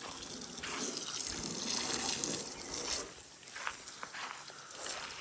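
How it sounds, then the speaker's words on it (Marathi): Water is sprayed onto a dirty Toyota Qualis during a full car wash. A steady, close gushing hiss runs throughout with slight surges and no talking. "पहिले तर घेऊया आपण गाडीवर पाणी मारून"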